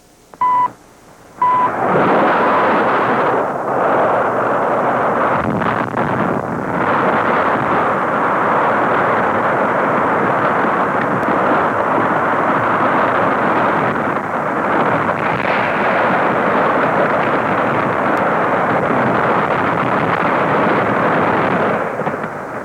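Underwater rock blast at Ripple Rock in 1958, heard from about 8,000 feet away: two short tones, then a loud sustained rumbling roar that holds steady and undiminished for roughly twenty seconds, with no talking over it.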